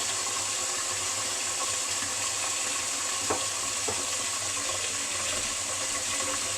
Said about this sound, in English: I'm just using hot tap water here.